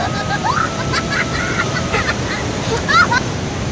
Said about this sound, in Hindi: तो आप लोग पानी चेक कर सकते हैं भाई, कितना तगड़ा पानी यहाँ पे चल रहा है